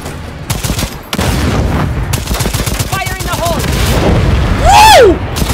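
In a video game, a grenade explosion and repeated gunshots sound loud and close, with booms and rapid fire running throughout while a person shouts over the chaos.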